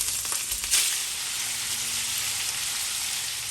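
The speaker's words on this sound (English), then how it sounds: "I'm going to add in my shrimp and just fry them on both sides for about 4 to 5 minutes." Shrimp frying in hot oil for a Guyanese katahar and shrimp dish, a loud, steady, close sizzle with a brief crackling burst as they hit the pan.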